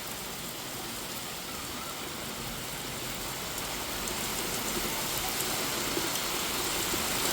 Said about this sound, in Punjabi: ਬਿਲਕੁਲ بارش ਬਹੁਤ ਜ਼ਿਆਦਾ ਤੇਜ਼ ਹੋ ਚੁੱਕੀ ਹੈ